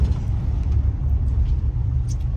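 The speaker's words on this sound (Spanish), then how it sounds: "Pinche tráfico, ya ni el lunes" Road traffic rumbling around a car on a congested road, a steady low drone of engine and tire noise heard from inside the cabin, continuous and fairly loud with no talk.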